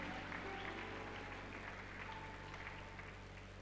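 A church congregation applauds steadily at a quiet distance, a continuous wash of clapping with no pauses for the full few seconds.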